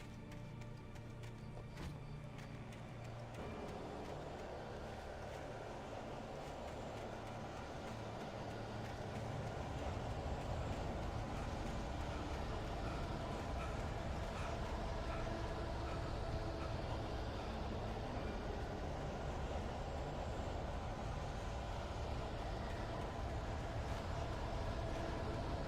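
A train rumbling in the game Alan Wake Remastered, a dense continuous roar that swells louder partway through and then holds steady, with no voices.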